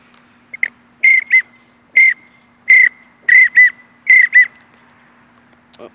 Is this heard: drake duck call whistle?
yes